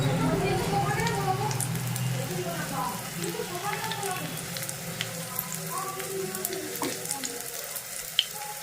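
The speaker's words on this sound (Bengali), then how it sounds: "পোস্তর বড়া ভেজে নিই" Poppy seed fritters (posto bora) frying in a pan in a home kitchen: a steady, close crackling sizzle of hot oil throughout, with someone talking over it.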